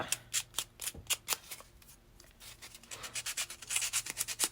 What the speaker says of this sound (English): I'm going to use my sandpaper on this, or my thing here to rough this up a little bit.